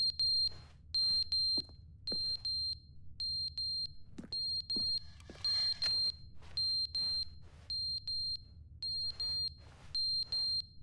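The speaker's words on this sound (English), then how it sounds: "That's the fire alarm." A fire alarm in The Stanley Parable: Ultra Deluxe beeps insistently, sharp high electronic tones in quick pairs and bursts repeating over about eleven seconds, with a low room hum and a few soft knocks underneath.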